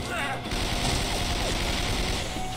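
Dense, continuous gunfire and explosive noise from the video game Spider-Man: Shattered Dimensions fill a short stretch, loud and chaotic throughout with no clear pauses.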